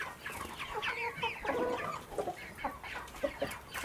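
Chickens clucking in a backyard coop, a close run of overlapping soft clucks and chirpy calls in uneven bursts, with no talk heard.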